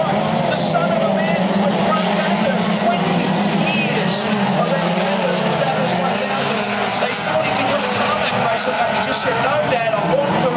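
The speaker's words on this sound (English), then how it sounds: "And now Braden Wilmington emerges as the leader as they come across the stripe" Speedway race cars roar around a track in a heat race, a loud continuous engine drone with rising and falling revs under an excited commentator's voice.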